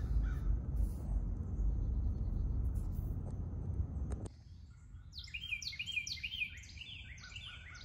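After a rush of broadband noise cuts out, several crows caw repeatedly in quick, overlapping bursts, fairly clear against a quiet background.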